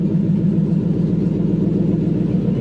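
A Toyota Hilux Surf KZN130 with a 1UZ V8 engine idling loudly and raw with no exhaust fitted, a steady low rumbling throb with a harsh, unmuffled tone, close up and uninterrupted.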